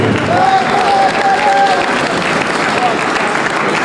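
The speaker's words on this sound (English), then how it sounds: "And a round of applause please for the great game boxer indeed, Dennis Doyle." Crowd applause at a Commonwealth Championship professional boxing event honours boxer Dennis Doyle, a steady dense wash of clapping with a few whistles and cheers, filling the hall throughout.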